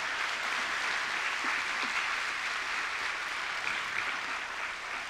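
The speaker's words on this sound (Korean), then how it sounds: "인생의 가장 빛나는 시기를 지나고 계신 시니어분들에게 다시 한번 박수 부탁드리겠습니다." A church congregation applauding the seniors at an autumn special dawn revival service, broad, steady clapping from a large crowd that fills the whole stretch evenly.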